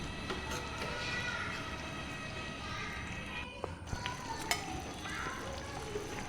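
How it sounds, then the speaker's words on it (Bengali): Mustard hilsa fish curry bubbling in a covered pan, a continuous low simmering hiss and sizzle with occasional soft clicks and knocks, fairly quiet and steady. "বলক উঠে গেছে"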